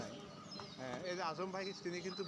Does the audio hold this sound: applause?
no